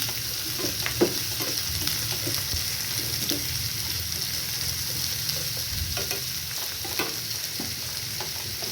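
Egg curry ingredients sautéing and sizzling in a pan, a steady frying hiss with occasional stirring scrapes and clinks, close and moderately loud, no voices.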